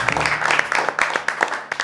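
Brief applause from a studio audience on a school spelling-game show, fairly close, with distinct individual claps audible in an uneven patter from a small group over about two seconds.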